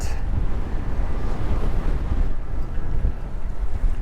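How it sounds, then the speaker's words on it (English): Strong wind buffets the microphone during a fishing outing on the water, a steady low roar with gusty swells that runs loud and unbroken, with splashing waves underneath. "Can't really get it that far out with this damn wind."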